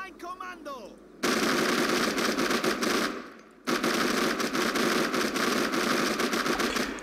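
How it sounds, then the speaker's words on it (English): Coaxial machine gun on a vehicle in Men of War Assault Squad 2, firing loud, sustained bursts of rapid automatic fire that run almost without pause, broken by one short gap partway through. "Just going to use the coaxial gun here to clear this."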